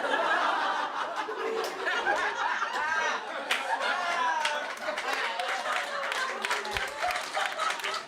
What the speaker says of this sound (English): Look at all of you clapping.